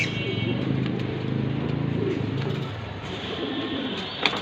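Racing pigeons coo steadily in low, throaty murmurs over a busy background, with a voice talking nearby through much of it.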